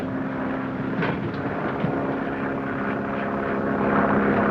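Propeller ambulance plane flying through thick clouds, a steady droning engine hum at constant moderate loudness throughout, no voices.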